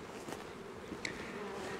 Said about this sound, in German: Die ersten Bienen, die sterzen auf jeden Fall schon.